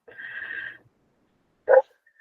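A large protective dog barks indoors, close and loud: a drawn-out whining yelp followed after a pause by one sharp bark.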